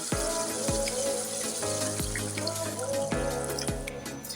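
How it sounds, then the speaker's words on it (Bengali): Pre-heated water pours into a pan of cooked-down potato ball curry masala, a steady liquid splashing and sizzling with repeated clinks and knocks, close and fairly loud, with no talk. "আমি এর মধ্যে সামান্য পরিমাণ জল দিয়ে দেবো। জলটা আমি আগে থেকে গরম করে রেখেছি।"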